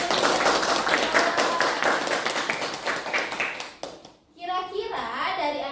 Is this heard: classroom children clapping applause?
yes